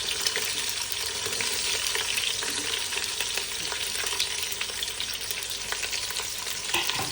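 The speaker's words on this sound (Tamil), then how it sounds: "இப்போ கொஞ்சம் ஃப்ரை பண்ணுவோம்" Onions fry in oil with cloves, bay leaf and curry leaves for vangibath, a dense steady sizzle heard up close without speech, fairly quiet overall.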